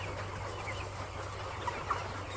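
Chickens on an egg-laying poultry farm cluck softly and sporadically, faint and somewhat distant, over a steady low electrical hum with no talk.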